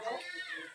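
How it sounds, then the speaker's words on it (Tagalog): A single short cat meow, close and fairly faint, heard at a breakfast table. "pusa."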